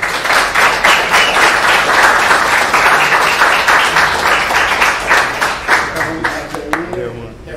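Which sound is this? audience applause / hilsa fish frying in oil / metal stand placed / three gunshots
audience applause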